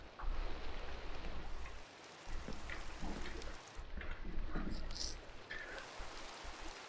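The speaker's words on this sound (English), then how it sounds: "I don't like the rain." Steady rain in a video game hisses as a dense, continuous wash with faint scattered drops, interrupted by brief dips and a few louder splashes, playing on its own without speech.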